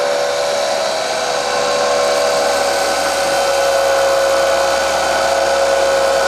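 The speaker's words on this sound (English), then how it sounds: "it's really all about letting the saw do the work. You don't want to push because you'll go through a lot of bandsaw blades" A bandsaw cuts steadily through rock with a continuous high whine and grinding hiss, loud and close, unbroken throughout with no talk.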